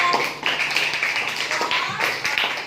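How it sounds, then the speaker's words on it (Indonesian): Sixth-grade pupils in a classroom give a group a round of applause, uneven scattered claps from several hands mixed with voices talking over them. "beri tepuk tangan dong untuk kelompok"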